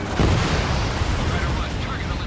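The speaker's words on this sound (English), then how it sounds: "An explosion inside!" An explosion rumbles inside a weapons supply ship in the combat flight game Ace Combat 7: Skies Unknown, a loud burst followed by a sustained low roar of blasts.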